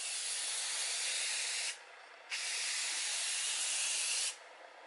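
Spray paint applied to an LED channel in two sweeps, one down and one up, heard as two steady, close hissing bursts with a short pause between them.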